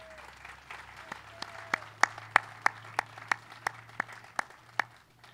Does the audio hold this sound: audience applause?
yes